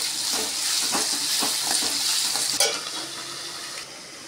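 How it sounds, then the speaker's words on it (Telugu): Mushroom curry with tomato sizzling in a pan, a steady close frying hiss with soft stirring scrapes, no talk. "ఇంకా బాగా ఫ్రై అవ్వాలి."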